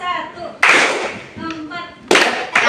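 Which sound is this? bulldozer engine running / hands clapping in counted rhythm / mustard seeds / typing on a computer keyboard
hands clapping in counted rhythm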